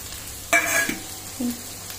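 Brief frying in a pan of flowers with chickpeas: a quick burst of sizzle and a utensil scrape, then a fainter stir, all short and close.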